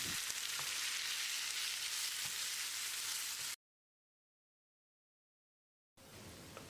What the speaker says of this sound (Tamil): 200 கிராம் அளவுக்கு நறுக்கின தக்காளியை மசிகிற அளவுக்கு வதக்கணும்.